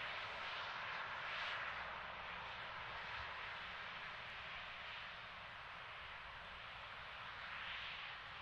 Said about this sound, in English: we have stage 2 engine ignition